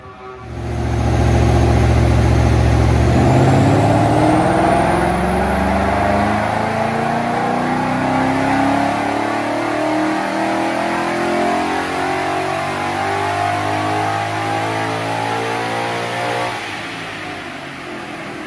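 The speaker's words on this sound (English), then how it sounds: "We'll give it a run and see what the exhaust does." A Ford Mustang, an early model fitted with new headers, revs hard on a dyno, its loud engine and exhaust note climbing steadily in pitch through a sustained run before easing off near the end, with no talking.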